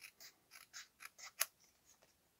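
Scissors snip a small paper tag for a cake-themed craft, a quick run of about eight crisp, close cuts with one sharper snap near the middle, then a few softer trailing snips.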